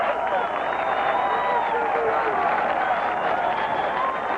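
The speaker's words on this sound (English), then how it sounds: "Fuzzy looking on, the crowd going crazy." Golf gallery at the US Open cheering and applauding in a dense, sustained roar of clapping and shouts, steady and loud throughout with a commentator talking over it.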